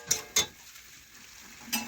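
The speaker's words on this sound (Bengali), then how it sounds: "ফুলকপিগুলো দিয়ে করে আমি একটু নাড়াচাড়া করে মিশিয়ে নিলাম" Fried cauliflower is stirred in a pan with a spoon, giving three sharp metallic scrapes and clinks against the pan over a faint sizzle, fairly close and with no talking.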